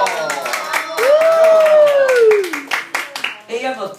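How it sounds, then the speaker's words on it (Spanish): Scattered clapping from a small group greets the first contestant at a playful pageant, with rapid uneven claps mixed with a rising and falling voiced tone and other vocal sounds. "un aplauso para la primera candidata"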